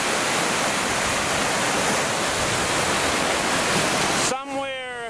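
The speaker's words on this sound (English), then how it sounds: "there's another waterfall in there" Waterfall on the Cascade Track in Nelson Lakes National Park, a loud, steady roar of falling water close by that cuts off near the end, leaving a brief voice.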